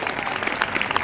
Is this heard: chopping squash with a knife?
no